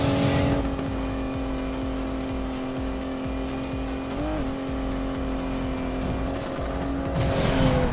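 An Aston Martin DB11 drifts in Need for Speed Payback, its engine droning steadily while tyres squeal continuously through the slide, with a rising rev near the end, loud and close.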